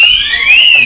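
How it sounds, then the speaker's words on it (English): A fire alarm blares loudly and close, a piercing high warbling tone that sweeps up and down without pause. "did you activate the fire alarm?"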